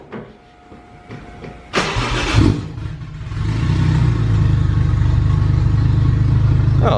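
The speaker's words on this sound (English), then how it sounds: "Need to give it a few revs" A Nissan SR20 engine cold-starts with a cranking burst and catches, then a rev rises and the motor settles into a loud, steady, throaty idle nearby, with no talking.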